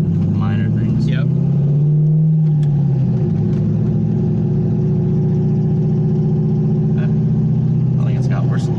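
A Corvette with new heads, cam and intake idles with a deep, steady rumble and a slight exhaust fault, the engine close and loud throughout while people talk over it.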